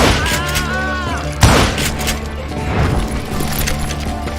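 Rapid bursts of gunfire from hired gunmen in the Western shooter Call of Juarez: Gunslinger, loud and dense, with a heavy blast about midway among overlapping shots and ringing tones.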